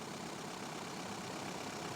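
A 1.9-litre commercial diesel engine idles just after a jump start from a dead battery, a steady, dense rumbling clatter heard close up and unbroken throughout.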